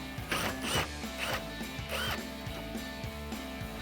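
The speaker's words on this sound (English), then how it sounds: "grab your 10mm socket and remove the other bolt up top on the headlight" A 10mm socket ratchet works a headlight bolt loose on a 2007-2013 Chevrolet Silverado 1500, making rapid ticking clicks in short uneven strokes, close and fairly quiet.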